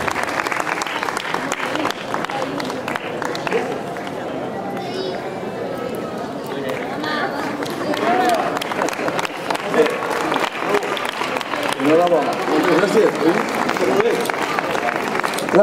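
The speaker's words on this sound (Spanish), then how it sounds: "Un aplauso para él." Crowd at a grape fair prize ceremony in Novelda claps for the 2015 Raïm d'Or winner, sustained mixed applause with chatter and voices over it, swelling louder toward the end.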